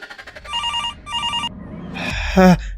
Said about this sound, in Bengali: ফোনটা আচমকা বেজে উঠল